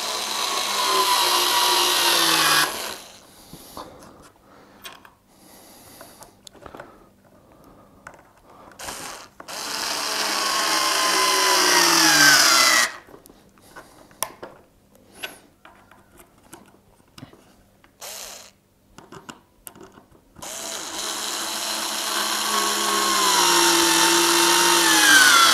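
A power drill bores holes and drives screws into a wooden board for a car camera door mount, in several whirring bursts with quiet pauses between them, the motor pitch rising and falling as the bit bites.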